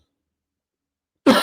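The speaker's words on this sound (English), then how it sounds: "I just coughed in the mic." A single sharp cough lands right into a microphone after a stretch of silence, loud and close with a brief rough tail.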